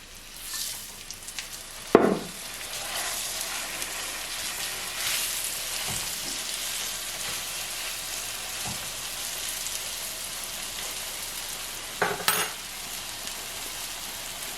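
Beef pot roast searing in hot oil in a pot, a steady, soft sizzling crackle that runs the whole time, with a few louder clanks and scrapes of a utensil against the pot.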